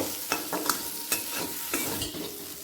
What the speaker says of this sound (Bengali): ভালো করে মশলাটা মিশিয়ে নেব